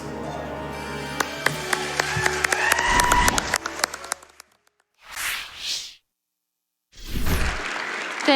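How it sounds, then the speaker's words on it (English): Crowd applause follows a speedrun of The Legend of Zelda: A Link Between Worlds at a Summer Games Done Quick event, mixed with claps and other sounds, then fades and returns in short bursts. "Let's get one more round of applause."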